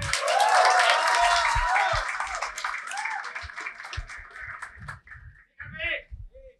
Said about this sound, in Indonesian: Sekali lagi tepuk tangan buat round terakhirnya Jomil.